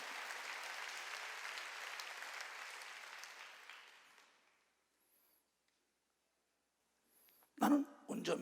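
A church congregation applauds in a broad, steady wash of clapping that fades out into near silence, followed by a brief spoken voice.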